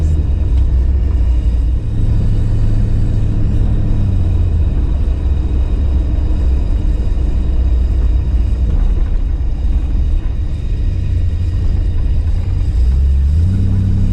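A 1955 Ford Fairlane rolls at about 20 mph over speed bumps, heard from inside as a loud, constant low engine and road rumble with heavier thumps and surges as the wheels hit each bump.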